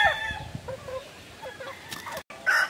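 A Superdome gamefowl rooster at a backyard game farm clucks and calls in short bursts close by, with other fowl in the background.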